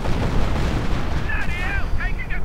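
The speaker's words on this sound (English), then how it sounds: "Artillery fire blasting in" Heavy booming artillery blasts and rumbling explosions in a WWII strategy battle game, dense and loud throughout, with a few high whistling tones rising late.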